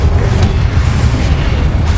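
A Confringo fire spell blasting in the game Hogwarts Legacy: a loud, deep booming explosion with a rolling rumble that fills the whole moment, close and heavy.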